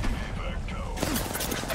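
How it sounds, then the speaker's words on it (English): Gunfire in the video game Apex Legends, a dense run of shots with loud impact bursts, especially in the second half, over a busy game mix with voices talking. "We're shooting this guy to our left, man."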